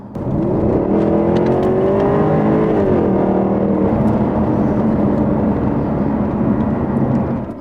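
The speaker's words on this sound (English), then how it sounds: "this is the last of the 5-litre petrol cars. And the sound of this car is one of the best parts of it" A Jaguar XKR's 5-litre petrol engine revs loudly and close, pitch climbing and falling through a sustained drone with no talking over it.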